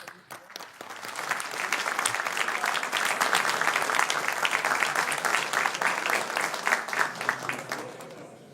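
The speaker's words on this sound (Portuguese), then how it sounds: "solicitando a todos uma salva de palmas" Warm audience applause for honorees at a 30th-anniversary ceremony of a law graduate program, starting with scattered claps, swelling into a full steady round and tapering off over about eight seconds.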